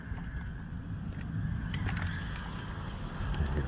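A small waterproof motor under a speed controller drives a little arm on a 3D printed wing mechanism. It gives a faint, steady mechanical whir with a few brief clicks, and there is no talk.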